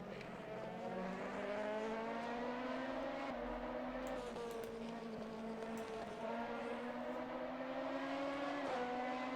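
A race car engine drones loud and continuous through a sim racing replay at Spa-Francorchamps, its pitch shifting with gear changes and revs, with the whine of other cars around it.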